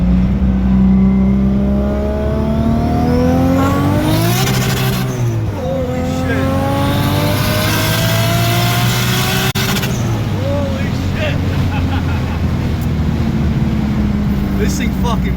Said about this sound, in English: here's a clip with the wastegate opening up